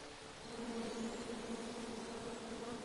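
Bees buzzing in the King's Quest video game, a steady, continuous drone that swells slightly and holds, fairly quiet, with no talking over it.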